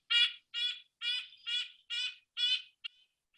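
A red-breasted nuthatch in a backyard up north gives a series of nasal, evenly spaced calls: six clear notes about half a second apart, then a short clipped one, close and alone against silence.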